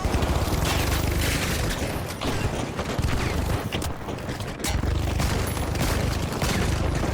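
A grenade blast in The Finals lands amid a dense, roaring wash of gunfire and booms, loud and sustained with a brief dip midway.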